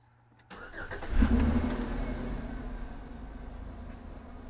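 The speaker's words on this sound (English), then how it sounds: "what happens if I start the engine here?" A car engine cranks and catches, then settles into a steady idle that runs on alone at moderate volume.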